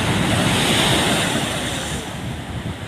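Ocean waves surge and wash in a continuous roar, mixed with gusty wind buffeting the microphone, with no voices.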